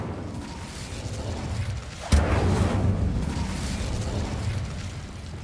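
The Incendio fire spell is cast in Hogwarts Legacy: a low ambient bed is broken by a sudden sharp whooshing burst of flame that settles into a sustained crackling roar.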